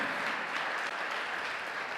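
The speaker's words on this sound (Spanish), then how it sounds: "Dale otro aplauso al Señor, se lo merece Dios." A church congregation applauds together, a full, steady roar of clapping filling the sanctuary at constant loudness with no pauses.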